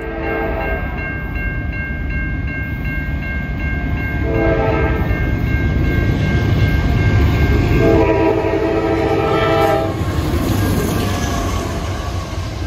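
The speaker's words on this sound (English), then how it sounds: "Our first train of the evening was Norfolk Southern 31M" A Norfolk Southern freight train with auto racks rumbles past close by in Swanton, Ohio, with constant clattering, its horn sounding in several long blasts over the heavy rolling noise.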